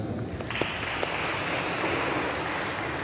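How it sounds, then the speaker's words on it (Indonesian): Church congregation at a Batak-language New Year's Eve service applauds, a soft, steady wash of clapping that sounds somewhat distant and continues evenly throughout. "Coba kita tepuk tangan."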